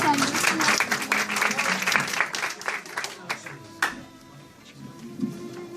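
Audience applause at a poetry reading, steady clapping for several seconds that thins out toward the end, with a few scattered claps at moderate loudness.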